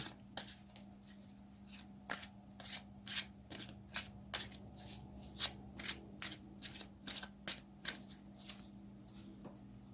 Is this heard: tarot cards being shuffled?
yes